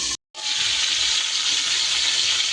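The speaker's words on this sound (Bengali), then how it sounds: "একটু ঢাকা দিয়ে আমি বেশ পটলগুলো লাল লাল করে ভেজে নেব।" Pieces of pointed gourd frying in a covered pan, giving a loud, steady hiss and sizzle that runs continuously after a brief silent break at the start.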